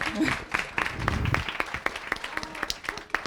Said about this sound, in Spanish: Un aplauso para Marcelina, por favor.